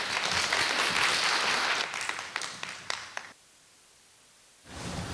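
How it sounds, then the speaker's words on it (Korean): Church congregation applauding to welcome a speaker, a dense steady clapping that thins into a few scattered claps and stops around three seconds, followed by a quiet pause. "박수로 환영해 주십시오."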